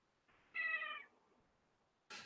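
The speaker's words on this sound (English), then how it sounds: "This is the third kitty." A house cat gives one clear, drawn-out meow close by in a quiet room, followed after a pause by a second short, sharper call.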